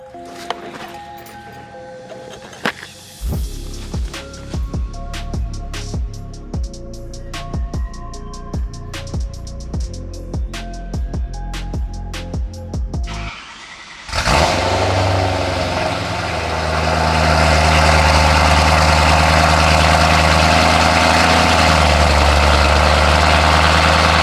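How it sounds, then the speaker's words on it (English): A BMW M4 engine ticks and clatters at first, then fires up in a loud cold start and settles into a deep, steady, rumbling idle close by, with no voices. "Let me give you guys one last cold start for the boys."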